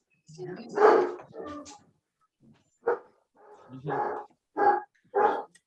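A pet dog barks in a series of short, close bursts with brief pauses between them, mixed in with nearby voices.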